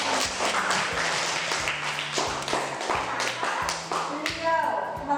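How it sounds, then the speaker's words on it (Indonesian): A classroom claps for a student, a sharp, rhythmic patter of hands in repeated bursts, close and fairly loud, with voices talking over it. "tepuk tangan untuk Mbak Linda"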